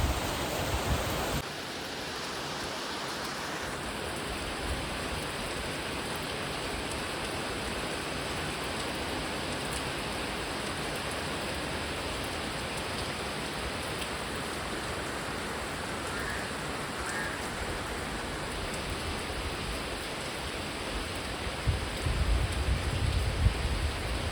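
Heavy rain pours down in a steady, dense hiss that stays constant throughout, with no voices.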